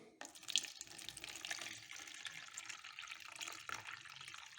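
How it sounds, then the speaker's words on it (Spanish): Water pours steadily into a homemade incubator's humidifier reservoir, a soft continuous splashing rush with faint drips, heard alone without voices. "vamos a echarle agua."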